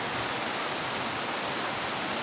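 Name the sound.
heavy rain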